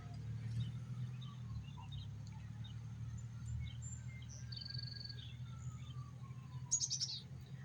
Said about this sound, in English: You can also hear the birds chirping